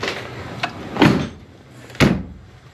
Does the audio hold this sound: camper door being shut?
yes